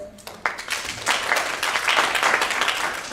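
An audience at a university student council election debate applauds to welcome the judge panel, the clapping building quickly to a dense, sustained roar close by, with no voices over it.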